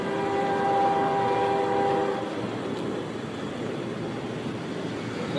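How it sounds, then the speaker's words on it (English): A coal train passes nearby with a steady, heavy rumble, and a sustained horn-like tone in the first couple of seconds fades into continuous rolling noise. "That's a coal train coming."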